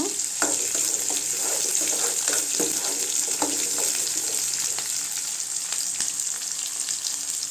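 Chana dal frying in a pan of hot oil for a ridge gourd peel chutney, a steady close sizzle with a faint bright hiss running throughout and occasional soft stirring scrapes, no voices.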